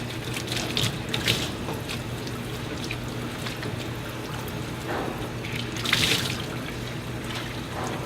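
Water runs from a tap over pottery tools being rinsed at a sink, a steady splashing flow with brief louder bursts of spray, no one speaking.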